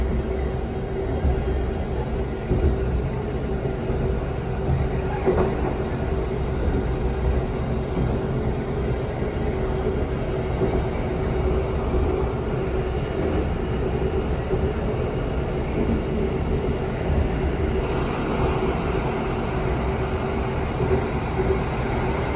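An Argo Cheribon passenger train rumbles steadily along the rails past Cipinang locomotive depot in Jakarta, a continuous low roar with faint clattering throughout, no voices.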